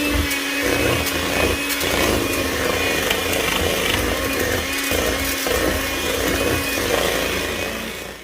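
A handheld electric mixer whirs steadily and loudly through sweet potato pie filling, a continuous motor drone with no talking over it.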